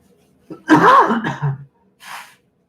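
A single sharp sneeze bursts out close by, followed a moment later by a short breathy exhale.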